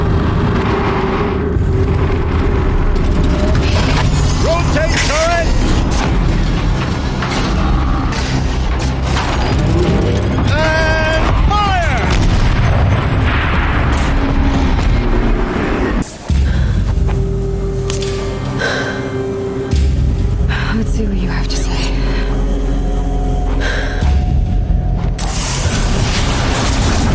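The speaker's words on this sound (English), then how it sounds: "Rotate turret!" A machine turret rotating in a Horizon Zero Dawn cutscene, with loud grinding, whirring mechanical motion and ratcheting clanks over a heavy, booming rumble that runs without pause for most of the stretch.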